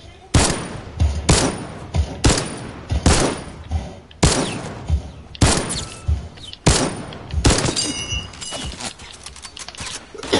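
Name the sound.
gunfire in a video game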